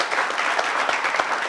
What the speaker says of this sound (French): on va donc les applaudir et les raccompagner à leur place